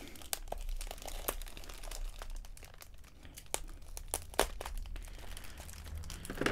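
Scissors cut through bubble wrap packaging during an unboxing, giving quiet, close crinkling and popping crackles in irregular bursts, with no speech.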